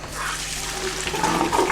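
Liquid developer pours steadily out of a Paterson film developing tank, a continuous close splashing and gurgling stream of moderate loudness with no talk.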